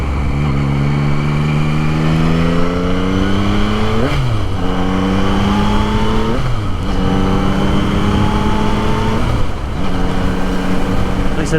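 A 2024 Yamaha MT-09 motorcycle engine revs and accelerates close by, its pitch climbing through repeated gear runs with brief dips at the shifts, loud and continuous throughout.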